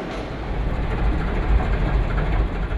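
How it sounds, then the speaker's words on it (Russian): A Soyuz-2.1A rocket rolls slowly on a special rail platform out of the assembly and test building, giving a steady low rumble and rolling noise that continues without a break and without voices. "После окончательного монтажа ракету медленно на специальной платформе вывозят по рельсам из монтажно-испытательного корпуса."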